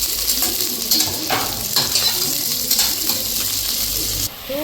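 Sliced onions and green chilies sizzling in a pan with oil, a steady close hiss with scraping stir strokes and light clinks of a spoon against the pan throughout.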